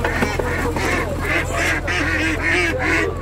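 Ducks and geese at a weekly poultry market for Bangladeshis in Saudi Arabia honk and quack in a dense, continuous chorus, close and loud, over a low machine hum.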